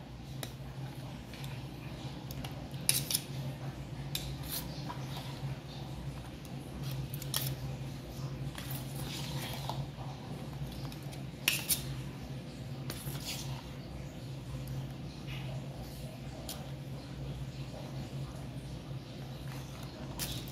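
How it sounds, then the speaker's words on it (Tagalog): Utensils mixing a homemade buko salad, with faint repeated clicking and scraping over a steady low background hum, quiet and continuous for the whole stretch. "hinahalo na namin yung aming buko salad"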